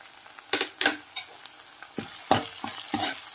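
Turmeric, chili powder and salt are stirred into sizzling tomato rice in a pan, with irregular scraping spoon strokes over a soft frying hiss.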